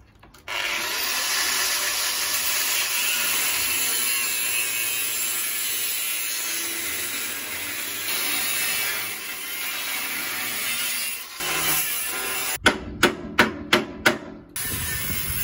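Power cutting through the metal cradle of a Ford Transit Custom swivel seat, a loud continuous grinding rasp lasting over ten seconds, then a brief pause and a series of sharp rhythmic clanks near the end.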